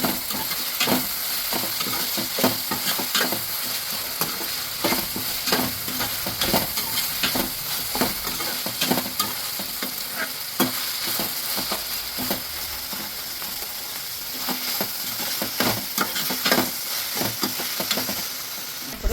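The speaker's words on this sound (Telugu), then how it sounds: "కొంచెం అల్లం వెల్లుల్లి పేస్ట్ వేస్తానండి, అంటే ఎక్కువ ఫ్రై అక్కర్లేదు." Ginger garlic paste frying with gongura leaves in a pan for prawn curry, a steady close sizzle with frequent stirring scrapes and clicks throughout, no voices.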